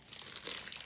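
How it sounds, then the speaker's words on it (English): Plastic toy package crinkling as it is opened by hand, a short close burst of crackly rustling. "One second, I'm trying to open this package."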